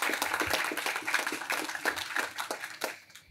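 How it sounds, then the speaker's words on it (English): Graduates at a university graduation ceremony give a big round of applause, fairly faint, distant scattered clapping with a hall-like spread, continuing throughout. "So a big round of applause for all of us."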